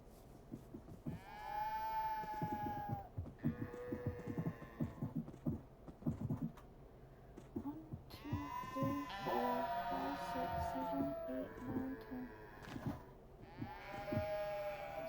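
Sheep in the video game Minecraft bleat repeatedly in quiet, wavering calls that overlap and come in irregular bursts, with low background sounds between them.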